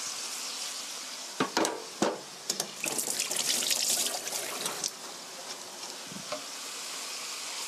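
Chicken with chopped onion and garlic sizzles in a hot pan, a steady hiss broken by several sharp clatters and scrapes as the ingredients are dropped in and stirred, close and fairly loud.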